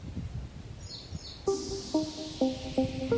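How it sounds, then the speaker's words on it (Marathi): Soft, high chirps come first, then a run of clear tonal bird calls repeating every half second or so, nearby in a quiet outdoor space. "पक्ष्यांचा किती छान आवाज येतोय"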